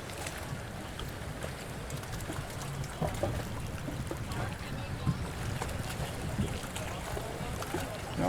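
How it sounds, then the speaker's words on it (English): Choppy sea water at an Aruba beach by the Marriott and Ritz Carlton washes and churns in a constant, moderately faint rush with wind, and faint voices mixed in. "the waters are definitely very,"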